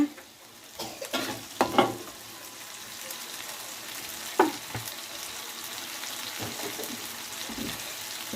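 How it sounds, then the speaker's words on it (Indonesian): Spices being stir-fried in oil in a pan while cooking bitter gourd in a home kitchen, with sizzling and scraping stirring strokes, a few sharper clanks early on and a continuous low fry underneath. "Kita tumis terus bumbunya biar agak harum."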